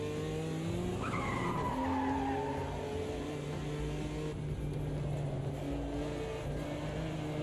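Cold tyres squeal and skid under a steady engine drone in the racing game Automobilista 2, with a rising screech early on and the car's hum running throughout at moderate level.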